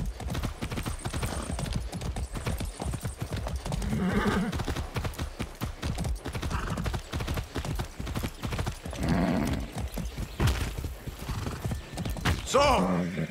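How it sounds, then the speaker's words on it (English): Horse hooves clip-clop steadily in Far Cry 6 gameplay, with a rapid galloping rhythm throughout and several neighs and whinnies breaking in, loud and close under a busy game soundtrack. "That's a good horse."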